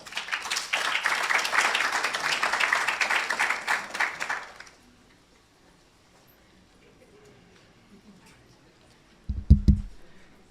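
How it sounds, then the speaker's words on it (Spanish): Audience applause welcoming a doctor giving a talk on MHC class I and diseases, loud sustained clapping for about four seconds that then stops abruptly, followed by near silence and a brief low thump. "Así que recibimos al doctor Álvarez con un fuerte aplauso."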